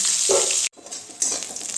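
Boiled potatoes go into a hot pan where bitter gourd has just fried, giving a loud, close sizzle that cuts out for a moment and then surges again, with no voices.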